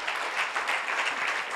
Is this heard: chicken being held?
no